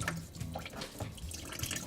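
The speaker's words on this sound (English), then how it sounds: "This is just distilled water, so it should come out clear. Once again, you just twist the petcock open." Distilled water drains from an opened radiator petcock during a coolant flush in a home garage, making a close, steady splashing trickle with small drips.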